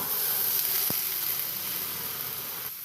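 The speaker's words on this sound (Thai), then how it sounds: "ตามด้วยเห็ด ผัดให้เข้ากัน" Mushrooms stir-fry in a pan over high heat, giving a steady close sizzle and hiss with one brief clack of a utensil partway through.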